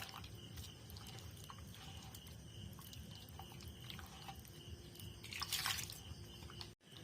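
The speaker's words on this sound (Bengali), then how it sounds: "এবারে এখানে দিয়ে দিচ্ছি জল। জল দিয়ে আবারও খুব সুন্দর করে মিশিয়ে নেব।" Water is poured into mashed bael fruit pulp and stirred in, giving soft, faint liquid splashes and drips with a brief louder slosh near the end.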